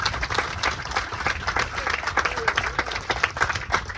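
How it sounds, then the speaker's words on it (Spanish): A church congregation applauds during a Spanish-language worship service, a dense, steady patter of many hands clapping at moderate loudness that fills the whole stretch, with faint voices mixed in. "Dale un fuerte aplauso al Señor."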